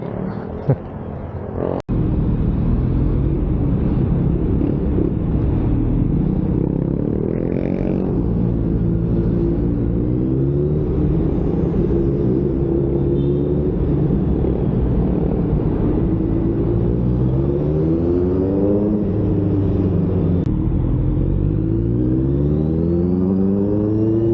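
Friday road traffic heard from a Kawasaki Z900RS motorcycle ride to Paranaque, a steady close engine drone with rising and falling revs and passing vehicles, no talk.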